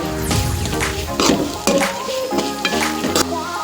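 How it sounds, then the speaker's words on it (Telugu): Turmeric being stirred into bitter gourd in a pan, giving soft scraping and moist squishing strokes with faint sizzling, close by and fairly quiet. "ఈ విధంగా పసుపు వేసి కలుపుకుందామండి."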